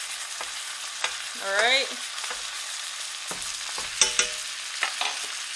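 Blackened grouper fries while being basted, a close, bright sizzle with scattered spoon or utensil clinks and a short spoken remark over it.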